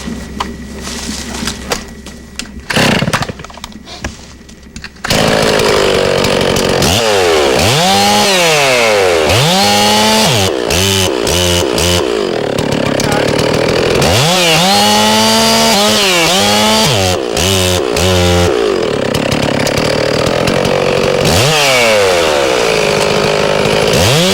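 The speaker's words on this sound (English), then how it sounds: "I'm going to do it in the wrong way just to show you how the inertia chain brake activates" A chainsaw kicks back during an inertia chain brake safety demonstration: the engine starts up, then revs loudly in repeated rising and falling surges, sometimes cutting out briefly, close and alone without talk.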